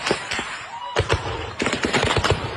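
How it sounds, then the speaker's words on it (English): Gunfire plays from a video of an attack on a house after a church service in Nigeria: rapid bursts of sharp cracks, with scattered single shots first and then a dense run of repeated reports, loud and reverberant. "That's every gunshot you're hearing is hitting a person."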